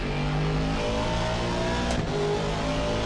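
A race car engine revs hard in the racing simulator Assetto Corsa Competizione, loud and continuous, with a sustained high-pitched drone and a brief shift or bump midway.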